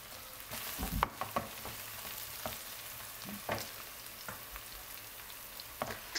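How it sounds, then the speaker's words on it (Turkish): Chopped green peppers and onions sautéing in a pan, with a steady soft sizzle broken by scattered clicks and scrapes of stirring, fairly quiet and close. "2 adet yeşil biberi küçük küçük doğradım. Onu da soğanın içerisine ilave edip soğanla birlikte soteliyorum"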